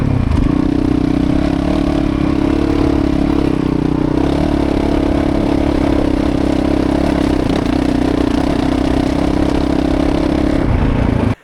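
A Honda CRF450RL dirt bike engine with a spark arrestor idles loud and close, a steady rough drone with low rumble that runs continuously before stopping abruptly at the end.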